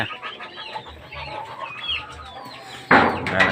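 Ducks and chicks in a farm pen, with constant clucking, peeping and chatter from the birds close by, ending in a sudden louder burst of squawking, and no talk over it.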